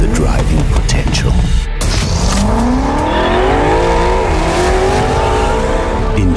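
A BMW M5 F90 fitted with an Akrapovič exhaust revs and accelerates hard through rising gears, its loud engine note climbing steadily with a brief tire squeal. The sound is close, and a faint voice lies beneath it.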